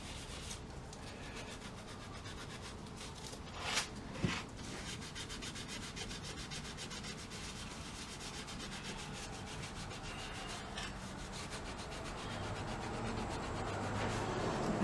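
Scrubbing rust off a metal part of a Jaw Teaser gumball machine, a continuous close abrasive rubbing with a couple of brief louder knocks midway and the scrubbing growing slightly louder toward the end, no voices.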